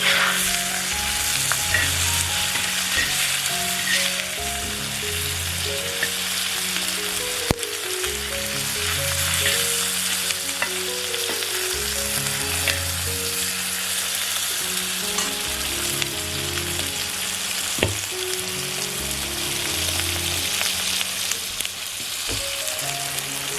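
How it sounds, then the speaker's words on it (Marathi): Small masala-coated river fish, Konkan-style chadhniche mase, fry in oil in a covered pan with a loud, dense, continuous sizzle and crackle that lasts throughout, with no talking. "आपण आता थोडा वेळ वाट बघूया हे फ्राय होईपर्यंत"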